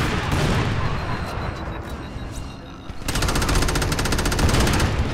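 Continuous rapid gunfire while shooting enemies in the video game Crackdown, a loud, dense barrage that dips briefly and then returns as fast, even automatic bursts.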